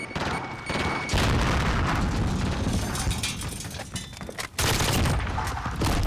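Grenade blast amid a Call of Duty: Modern Warfare firefight, a heavy boom buried in dense, continuous gunfire and battlefield noise that stays loud throughout, with a brief dip before the racket resumes.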